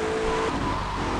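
A BMW M5 luxury sedan with M Performance and M Sport Package in a video game gives a brief, steady engine drone with a tire skid squeal, loud and close for about a second.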